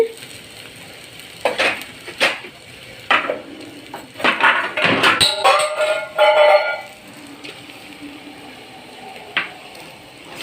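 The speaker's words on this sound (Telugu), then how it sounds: "ఇందులో శుభ్రంగా కడిగి పెట్టిన మటన్ వేస్తున్నా ముప్పావు కేజీ ఉంటుంది ఇది" Washed mutton pieces, about three quarters of a kilo, go into a cooking pan in a burst of clanks, thuds and scraping, followed by a faint sizzle and a few isolated taps.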